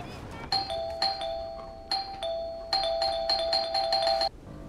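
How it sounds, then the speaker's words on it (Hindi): An electronic doorbell chimes repeatedly in quick succession, rung over and over with brief pauses, fairly loud and close, in a home. "अरे भाई, घंटी से हाथ हटाओ।"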